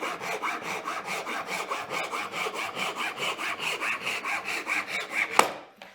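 A hand saw cuts wood held on a maple bench hook with a fence, making a close, rhythmic series of rasping strokes at a steady pace that ends in a sharp final snap.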